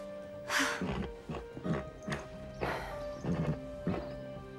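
Hooves clop and thud in uneven bursts at close range, with a horse snorting and whinnying among them.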